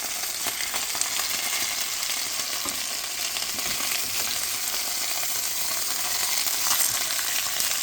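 Chicken pieces fry in a pan for a lemon pan sauce dish, giving a steady, dense sizzle with faint crackles and no voices throughout.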